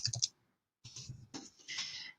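Computer mouse clicks while working in the LiveCode script editor: a quick cluster of sharp clicks at the start, then a pause and two longer bursts of close, crisp clicking with faint handling noise.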